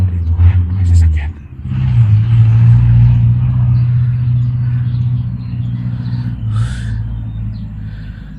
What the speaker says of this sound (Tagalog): Ayan, may sasakyan.